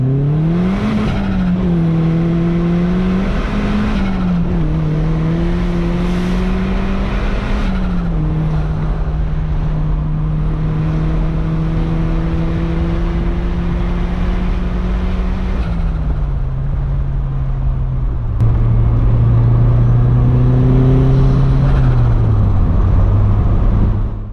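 A Mazdaspeed Miata accelerates hard, engine revs climbing through gear after gear with brief dips at each shift, loud and close from inside the car, with no speech over it.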